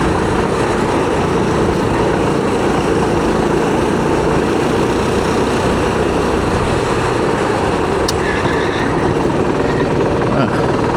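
A racing kart engine drones steadily from on board while the kart laps the Circuit de Touraine track at Villeperdue, a constant loud buzzing roar with someone talking over it.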